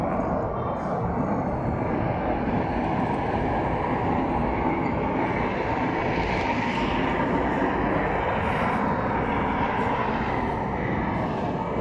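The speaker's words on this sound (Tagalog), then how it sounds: "Ayan, so may train na naman na doon." A train passes through the city below a high-rise roof deck overlooking Metro Manila, a steady continuous rumble with broad low roar holding for the whole stretch, distant and even in level, no talk over it.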